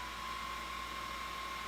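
Cooling fans on a Harley-Davidson motorcycle, running with the engine off: a steady, faint whooshing whir with a thin constant tone, even throughout with no talk.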